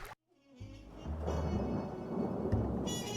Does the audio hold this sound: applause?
no